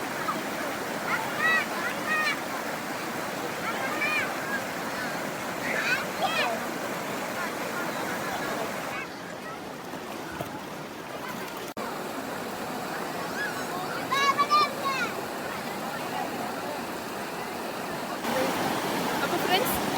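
Water and waves at Thathengalam Beach, a continuous rushing wash of water with intermittent bird chirps, while people talk nearby.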